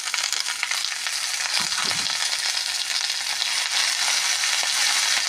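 Vegetables and ground spice paste fry in a hot pan with a steady, close sizzle, broken briefly by a few stirring scrapes near the start.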